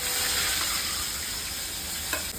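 Onion paste hitting hot oil with cumin, bay leaf, cloves, star anise and a cinnamon stick for a paneer curry, a dense close sizzle with a single soft clink near the end.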